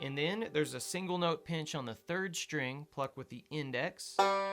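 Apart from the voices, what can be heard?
No distinct noise like a dog, phone or traffic.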